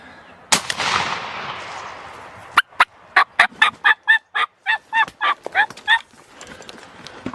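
Wild turkey gobbler in the Idaho high mountains, a loud sharp gunshot-like crack with a rushing tail, then a rapid series of about a dozen close gobbles in quick bursts.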